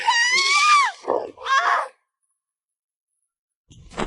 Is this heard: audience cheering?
no